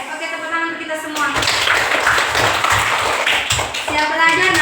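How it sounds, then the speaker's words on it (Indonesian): A school class claps together in a quick, rhythmic burst of hand claps, close and fairly loud, with a teacher's voice and children's voices heard before and after. "tepuk tangan untuk kita semua"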